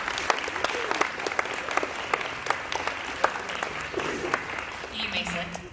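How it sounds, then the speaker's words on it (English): An audience at a middle school honors ceremony gives a round of applause for the 7th and 8th grade golf team, a moderate crowd clapping with distinct individual claps standing out before it thins toward the end. "Give these guys and ladies a round of applause."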